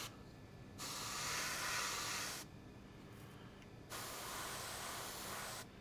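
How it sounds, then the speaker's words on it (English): Two bursts of spray-can hiss, each lasting a second or two, separated by short pauses, close and fairly quiet, while spray painting a P-40F Warhawk scale model. "I want to avoid spraying over the front or rear edges"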